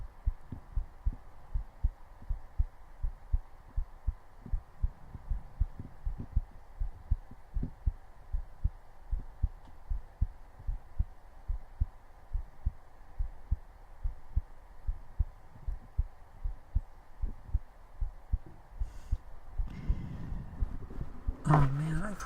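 A heartbeat picked up close by a microphone: a steady, regular series of soft low thumps over a faint hum, continuing throughout, with some rustling handling noise near the end.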